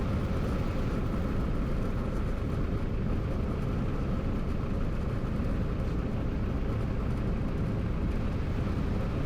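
Light airplane engine throttled back to idle with carburetor heat on during a sideslip on approach; a steady, continuous low drone with wind and cabin noise, constant level, no voices.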